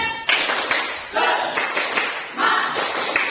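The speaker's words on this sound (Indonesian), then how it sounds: "Tepuk semangat." Students in a ninth-grade class do a short tepuk semangat spirit clap, with quick bursts of clapping and patting mixed with chanted voices, close and lively.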